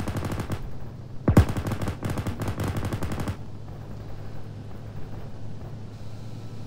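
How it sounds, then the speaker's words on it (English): Rapid automatic gunfire in the military shooter ARMA, several dense bursts fired in quick succession over about two seconds, loud and close, then fading to a low steady background rumble. "I hear the gun shooting"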